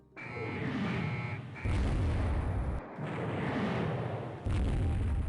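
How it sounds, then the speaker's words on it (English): Missile strikes are launched in the naval strategy game Rule The Waves 3: loud, sustained roaring blasts come in heavy waves, with brief gaps between surges and a rising whine at the start. "unleash the missiles"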